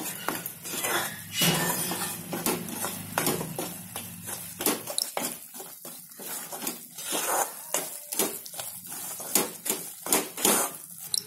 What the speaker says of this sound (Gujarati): જો આપણે ઘીમાં લોટ શેકીએ છીએ તેની સુગંધ કેવી સરસ આવે છે